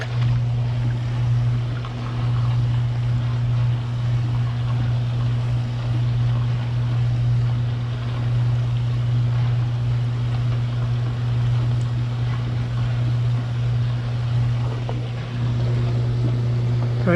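Hot tub jet pump running on first speed while priming to clear an airlock, a loud, steady motor hum with a strong low drone and a watery churn that stays constant throughout.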